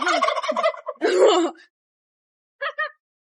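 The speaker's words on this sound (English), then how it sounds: "It's such a big white type of turkey" Big white turkey on a farm gobbling in loud, close, warbling bursts, one long call followed by a brief pause and two shorter gobbles.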